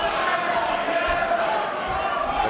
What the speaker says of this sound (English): The crowd here in Dublin getting behind James Sheehan